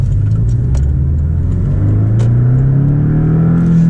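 A Porsche 718 Boxster GTS drives uphill with a loud, steady engine drone that climbs gradually in pitch as it pulls, close and continuous, with no talking.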